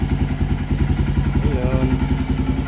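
A 2015 Honda XR150L motorcycle engine runs after a cold start with a loud, close, steady single-cylinder thumping idle, with a brief rising tone in the middle.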